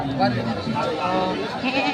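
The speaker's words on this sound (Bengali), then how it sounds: "এটা আপনার বাড়ির ছাগল" A goat at a livestock market bleats nearby, its wavering cries mixed in with people talking close to the animal.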